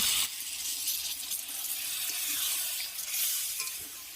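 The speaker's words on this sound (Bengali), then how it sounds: "এবারে দিয়ে দিচ্ছি জল" Water poured into a pan of fried prawns in a lau and neem leaf dish, a sharp hiss and bubbling sizzle bursting in after a brief quiet start and fluctuating steadily.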